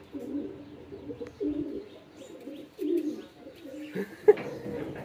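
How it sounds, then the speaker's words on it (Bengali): A Jalali pigeon, a stray bird that has wandered onto a farm, coos in low, rhythmic phrases at close range, with a few sharper chirps and handling noises toward the end. "এটা তো জালালি কবুতর"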